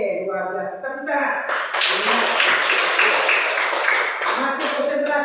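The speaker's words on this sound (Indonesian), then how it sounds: "Tepuk tangan." A classroom group breaks into loud, dense clapping that carries on for several seconds, with voices mixed in around it.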